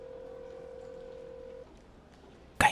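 A telephone rings unanswered, a single steady electronic tone holding for about a second and a half before stopping, then quiet, ending with a short loud burst of noise.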